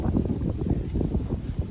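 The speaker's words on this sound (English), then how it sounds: "since it is so windy out" Strong wind gusts buffet a garden on a blustery day, a continuous low rushing roar with uneven surges, close and fairly loud, with no voices.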